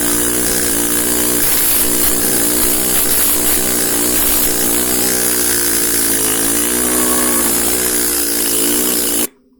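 A pneumatic hammer carving relief letters into granite roars in a loud, continuous, harsh chatter that stays steady throughout and cuts off abruptly at the end.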